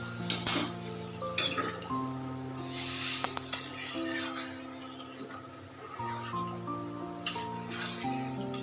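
Dirty dinner plates scrubbed and handled in a kitchen, with close clinks and rubbing scrapes of dishes knocking together at an uneven pace over a steady low hum, fairly quiet.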